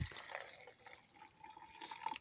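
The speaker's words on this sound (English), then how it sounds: "let's add a little bit of water" Water poured into an MRE instant coffee pouch, a faint trickling and dripping fill with small splashy bursts and a rising liquid tone toward the end, quiet and close.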